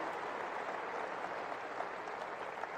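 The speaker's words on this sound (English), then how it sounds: "I wish people didn't feel like clapping, but I feel like clapping even." Audience applause during a talk on political dysfunction, a steady dense wash of clapping from a crowd filling the whole stretch without pause, fairly distant.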